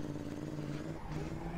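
A Reliant Robin drifts in Assetto Corsa, its tyres skidding with a steady squeal over a droning engine hum, heard continuously at moderate volume.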